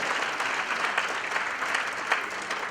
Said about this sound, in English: that one we can applaud